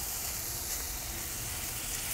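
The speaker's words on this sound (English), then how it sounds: "So I'm going to put my mushrooms in here with my onions and just let those start to cook just a little bit" Mushrooms and onions begin to sauté in a pan, giving a soft, even hiss of gentle sizzling with no clear stirring or other sounds.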